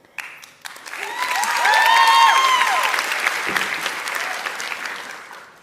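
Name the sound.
audience applause at a TEDx talk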